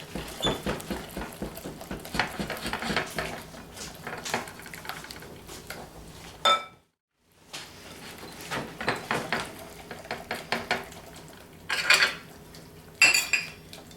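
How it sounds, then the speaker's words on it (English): Blintz batter made with buttermilk is mixed briskly in a bowl, producing close, rapid clinks and scrapes with one brief pause midway before the stirring resumes. "So we're going to mix this up really well"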